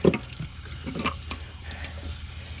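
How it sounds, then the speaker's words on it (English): Water runs steadily from a tap over an RV air conditioner filter being rinsed, with a continuous splashing wash and slight shifts as the filter moves under the stream. "But I just rinse it out and pull the fibers off."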